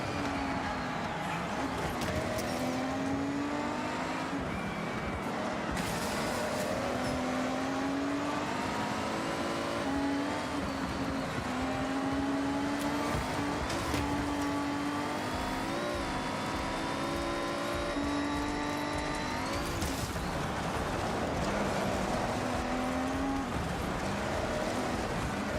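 A car in Forza Horizon, the most expensive model, tuned for rally, drives with a steady engine drone that rises and falls as it accelerates and shifts, continuous and fairly close.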